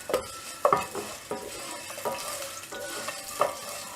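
Curry leaves sauté in a pan for mint thuvaiyal, a soft steady sizzle broken by several clinks and scrapes of a spoon against the metal, close and fairly loud with no voices.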